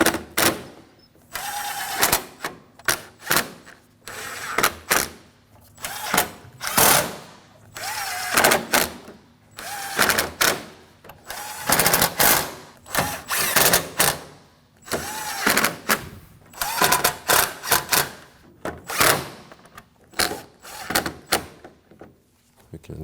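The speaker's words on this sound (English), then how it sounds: "Go through and snug all your bolts down." Power tool snugging down a row of bolts on a 2016-2022 Honda car grille during a passenger-side A/C condenser cooling fan replacement; short repeated bursts of whirring and clicking, close and fairly loud, with a voice talking between them.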